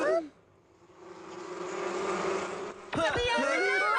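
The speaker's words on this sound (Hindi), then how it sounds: "मधुमक्खी आ रही है" Cartoon bee swarm buzzing, a rising droning hum that swells over a couple of seconds, followed by a burst of shrill animated voices.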